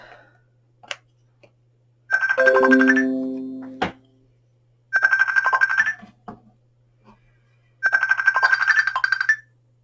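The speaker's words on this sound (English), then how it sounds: "That was a Facebook phone call which I've never had before." A Facebook phone call ringtone sounds in three loud, close bursts of bright repeating chimes, each roughly a second long, separated by quiet gaps with a few faint clicks and a low steady hum.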